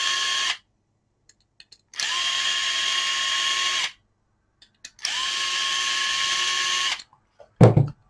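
A power screwdriver loosens screws on a model holder from a Titanic 200 kit, with two or three separate bursts of high whirring motor close by, separated by silent gaps and ending with a clatter.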